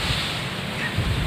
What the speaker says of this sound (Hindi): और हवा चल रही है मस्त,